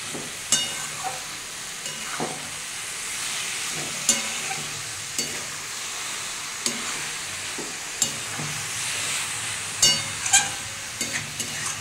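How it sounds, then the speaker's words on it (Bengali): Bengali-style vegetarian cabbage curry with ghee and garam masala is stirred in a pan. A continuous sizzle runs under repeated scraping strokes of a spatula that come at an irregular pace, close and clear, with no voices. "বন্ধুরা একটু ভালো করে নেড়ে দিলাম।"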